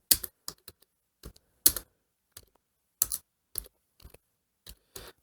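Keys on a computer keyboard clack in short, irregular bursts of a few strokes at a time, with silent gaps between them, as a variable label is typed into SPSS statistics software; no one speaks.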